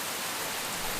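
Steady rain falling, a dense broadband hiss that stays even and fairly quiet for the whole second, with no voices over it.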